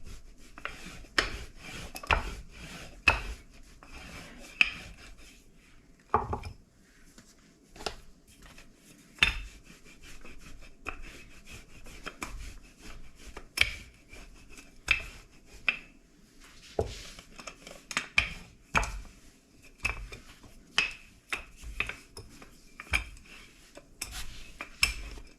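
Puff pastry dough rolled into a rectangle on a work surface, a steady series of soft thuds and rubbing rolls repeating about once a second, close and fairly quiet.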